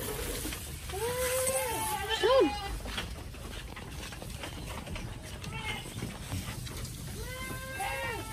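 Goats bleat on a farm, several wavering calls near the start and again at the end, set against outdoor background noise with faint voices.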